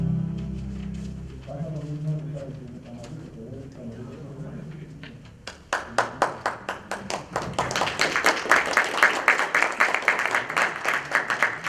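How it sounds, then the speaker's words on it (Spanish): Audience applause at a technical workshop on a state energy information system in Tamaulipas: someone speaks first, then loud sustained clapping from a crowd swells and continues steadily to the end. "muchas gracias por los aplausos"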